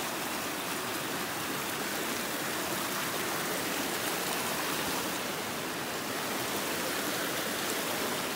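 Loud, continuous rush of a fast-flowing mountain stream, dense and unbroken from start to finish, with no talking, at Castleguard Meadows.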